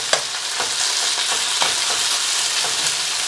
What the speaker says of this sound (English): No, we need to sear this meat, get that caramelization going, get that brown crust going on the beef